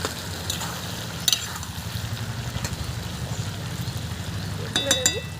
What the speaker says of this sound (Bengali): এইভাবে একটু ভালো করে ভেজে নেব দেখুন মাছের তেলটা কিন্তু আমি ভালোভাবে একটু ভেজে নিলাম